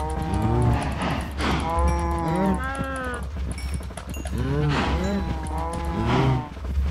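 Cows in a video game moo repeatedly, loud and close, with long drawn-out lowing calls over a steady low background hum.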